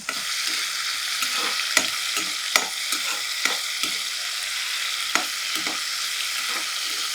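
Brinjal and dry prawns frying in a pan, a steady bright sizzle punctuated by repeated sharp clinks and scrapes of stirring, close and alone without talk.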